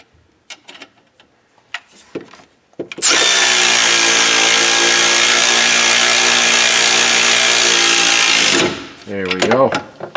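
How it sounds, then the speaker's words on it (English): A power tool whirs steadily for about six seconds, running in bolts on a rear wheel knuckle during rear suspension work, with brief talk before and after the burst. "going to go ahead and run these in, and then we're going to torque them in for this rear wheel knuckle."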